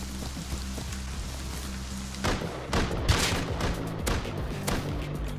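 Gunfire in the survival game Rust as players shoot it out on the way toward a town: a scatter of sharp, moderately distant shots in the latter half, over a steady low hum, with no talking.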